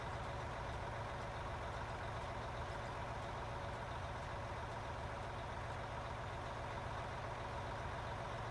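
A diesel engine idles steadily in the video game Out of Ore, a constant low rumble with a dense, even texture that stays level throughout, with no speech over it.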